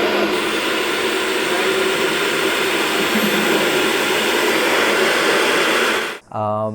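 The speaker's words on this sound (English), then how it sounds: "Ducted fans are less efficient than propellers for our scale, but they sound cool." The electric ducted fan motor of a radio-controlled model F-22 Raptor jet gives a loud, steady, close rushing whine that holds without a break for about six seconds, then drops away abruptly near the end.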